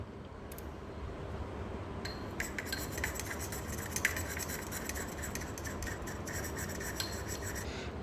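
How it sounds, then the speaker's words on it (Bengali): Oil remedy for dandruff being stirred in a bowl, a steady close scraping and rubbing with light clinks of a utensil against the dish, continuous and even throughout. "ছয় ফোঁটা তেল দেওয়া আমার শেষ। এখন আমি এটিকে ভালোভাবে মিক্স করে নেব।"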